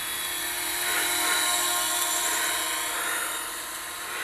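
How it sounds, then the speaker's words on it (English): JJRC H37 Elfie folding quadcopter drone in flight, a continuous high whining propeller buzz nearby that swells and fades slightly as it moves. "There's so much downdraft coming off those propellers, it is unreal."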